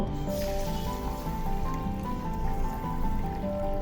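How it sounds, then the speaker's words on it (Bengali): Water is poured steadily onto mashkalai (black gram) lentils in a bowl, producing a continuous close, fairly loud gurgling stream that runs without a break for a few seconds and has no talk. "এখন এই মাসকলাই ডালের মধ্যে আমি পানি দিয়ে দিব"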